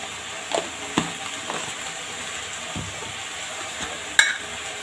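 Ground masala paste sizzling in a pan for quick pasta, stirred with a few soft scraping strokes over a steady close frying hiss, with a sharper clink near the end.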